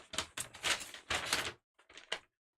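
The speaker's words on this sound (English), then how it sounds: "Crunchy paper sound." Paper is crunched and folded into a concertina accordion book, with close, crisp crinkling bursts in several uneven bouts separated by short pauses.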